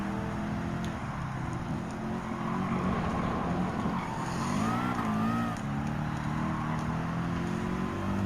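Racing cars in Gran Turismo 7 roar through a driving mission, a steady engine drone with rising and falling revs and brief tire squeals, loud and continuous.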